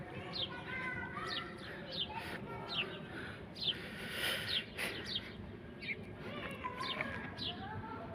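Birds chirp in a jujube tree in Al Khor, Qatar, with pigeons and a parakeet among them; repeated short tweets ring out over a steady busy bird chorus, fairly close and continuous throughout.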